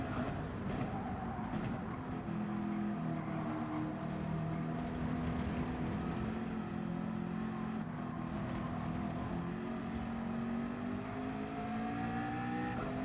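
Race car engines from Gran Turismo 7 in a Nations Cup online race, featuring a Supra and a Porsche 911, drone steadily and loudly for the whole stretch, with layered engine tones rising and falling as several cars run close together.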